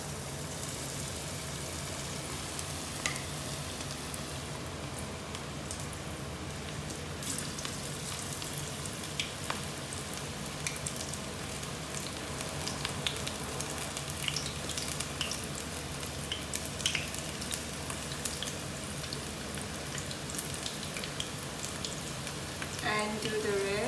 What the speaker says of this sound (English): After this, give a tablespoon size and drop the mixtures in the pan.